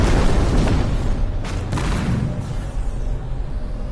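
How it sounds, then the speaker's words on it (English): Photon cannon fire aimed at pirates in the No Man's Sky space game, a dense, loud run of booming blasts and sharp bursts that stays continuous across the clip. "The photon cannon works a little bit better"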